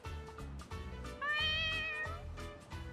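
A cat in the Yakuza: Like A Dragon game gives a single clear, rising-and-falling meow near the middle, set against a soft rhythmic background beat.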